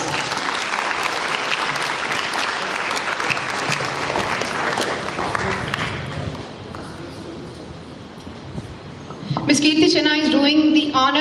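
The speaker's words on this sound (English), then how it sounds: "Please give her a huge round of applause." Audience applauding for winners at a school sports day, sustained clapping that fades after about six seconds, followed by a burst of music near the end.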